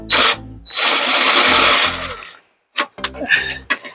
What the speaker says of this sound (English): We try to countersink it a little bit from the top.